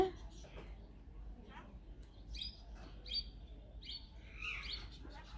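A sick pet bird, with hair tangled around its feet, gives a series of thin, bright chirps and tweets, quiet and close, in short bursts against a faint low background hum.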